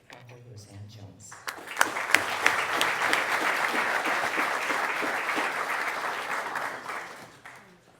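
An audience at a Guam Chamber of Commerce membership meeting at the Hilton Guam breaks into sustained, steady applause that swells quickly, holds for several seconds, then fades out.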